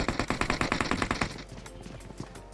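Gunfire in PUBG Mobile: a quick, evenly spaced string of about a dozen loud, close shots lasting just over a second, then scattered fainter shots under a steady hum.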